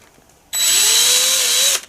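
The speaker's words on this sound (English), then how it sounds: "So I'll just put a centre dimple in there. I'm going to try and do it without breaking the drill." A hand drill bores a centre dimple into metal, one-handed and under pressure: a single loud, steady whine that starts abruptly, holds for just over a second with a slowly rising pitch, then stops.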